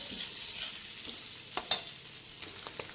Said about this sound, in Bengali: আলুগুলো একটু ভাজতে থাকবো।